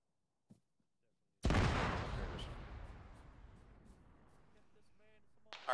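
A demolition charge detonates in a military video game, a sudden loud blast that rolls off into a long decaying rumble over several seconds, after a brief faint voice.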